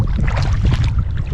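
Gusty wind buffets the microphone while kayaking on the Tay River near Perth, a loud low rumbling roar lasting about a second with no other sound standing out.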